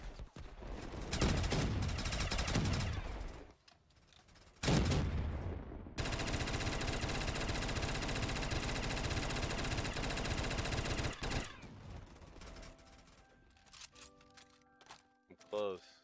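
Gunfire in Black Ops 3 Zombies, bursts of shooting in the opening seconds, then a long sustained stretch of steady automatic fire mixed with game noise and effects, with a voice talking over parts of it.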